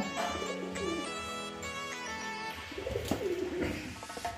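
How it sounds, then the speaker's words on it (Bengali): Six or seven pigeons crowd at a slightly open window, cooing in soft, low, rolling calls that overlap near and far against a faint background hum. "একটুখানি জানলা, তাও পায়রা এসে ভিড় করেছে"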